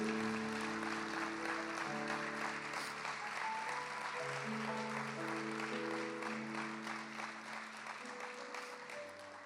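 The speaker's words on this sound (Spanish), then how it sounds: "den un aplauso a Jesús" A church congregation applauds during a Christian sermon, a continuous wash of clapping layered over sustained organ or keyboard chords that fade slightly toward the end.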